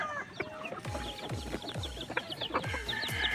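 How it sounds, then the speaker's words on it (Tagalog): White Kelso chicks cluck and peep while being fed, a busy overlapping chorus of short calls close by, with scattered pecking and faint background noise. "So bibigyan na po natin ng patuka ang ating white kelso mga kaibigan."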